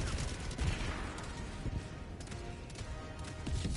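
Automated turret gunfire in Helldivers 2 crackles in a dense, continuous barrage of overlapping shots, loud and close amid the din of a chaotic firefight.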